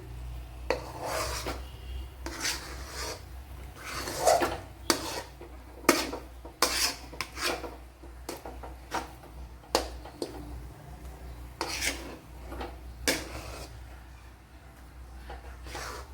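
Ragi dough thickening in a pan over a low flame, stirred with a spoon that scrapes and clinks against the metal in irregular bursts. The close strokes are loud at times and sit over a low steady hum, with no talk.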